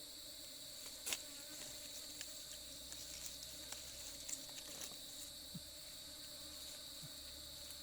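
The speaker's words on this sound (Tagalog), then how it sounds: "Mga bubuyog. Sa puno na yun." Wild bees buzzing around a forest tree holding wild honey, a faint steady insect hum with a few brief close passes and soft ticking noises in quiet woodland air.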